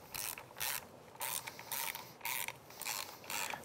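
A hand ratchet clicks in repeated quick bursts, close and clear, as it runs sprocket bolts down on a Kawasaki KLX110 pit bike during a chain and sprocket replacement, with short pauses between strokes and no voices.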